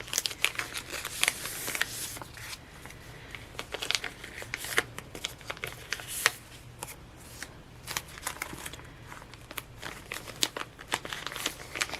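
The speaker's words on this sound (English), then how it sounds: "I'm just like pulling all of these stickers out" Stickers being peeled out of a planner sticker book, heard as close, irregular papery crinkles and rustles with short tearing bursts, fairly quiet and unaccompanied by talk.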